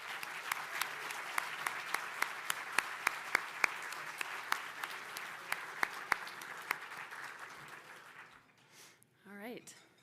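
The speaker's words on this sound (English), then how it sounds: "can we give one more big round of applause to all of our first place teams in the Design Challenge?" A Solar Decathlon audience cheers its first-place teams with a long run of steady clapping, individual sharp claps standing out, tapering off near the end as a voice begins speaking.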